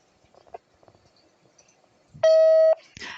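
A single loud, steady voicemail beep tone lasting about half a second, preceded by faint speech and followed by a voice beginning to talk.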